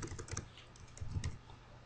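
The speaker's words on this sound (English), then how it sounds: "so I'll start typing in password" Steady run of quick clicking keystrokes on a computer keyboard while a password is entered, close and fairly quiet.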